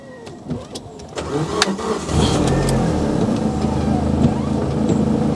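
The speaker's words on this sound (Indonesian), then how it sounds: "Dan kita coba hidupin mesinnya ya" A small, cheap car's engine cranks briefly and catches, then settles into a steady idle close by, with a few clicks before it and faint talk around it.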